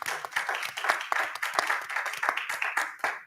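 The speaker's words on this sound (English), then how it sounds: "Let's give a round of applause for Levon Williams." Audience applause at a music summit, a steady patter of many hands clapping at moderate volume throughout, with no talk over it.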